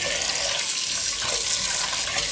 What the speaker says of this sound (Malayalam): ആദ്യം പൈപ്പ് വെള്ളത്തിൽ ഞാൻ 2 പ്രാവശ്യം നന്നായിട്ടൊന്ന് കഴുകിയെടുക്കും